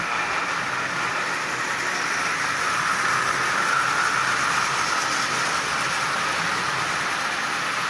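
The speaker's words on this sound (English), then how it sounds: "this engine is running absolutely perfectly" A Marx 400 double reduction toy train motor runs steadily with a smooth, continuous whir and hiss that stays even throughout, close by and with no talking.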